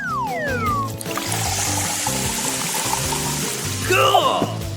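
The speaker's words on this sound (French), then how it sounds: "Je vais verser le coca sucré dans les poches de perfusion." Sugary cola is poured into IV drip bags as a wet trickle and splash under background music, rising to a louder gurgling pour near the end.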